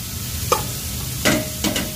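Vegetables, including celery, hiss and sizzle in a very hot pot for tomato sauce, with a few sharper bursts of sizzling as food is stirred or added, under a low background hum.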